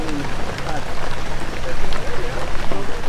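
Rain falls steadily outdoors, a dense, loud patter with occasional heavier gusts, while people talk faintly beneath it.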